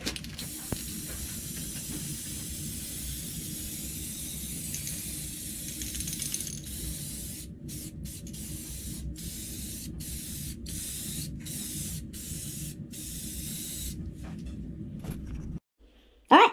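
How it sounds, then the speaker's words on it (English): Aerosol spray can releasing clear coat onto a craft tree, a steady loud hiss held for about fifteen seconds, broken near the end by short pauses between bursts before cutting off. "I'm just going to put some clear coat on it."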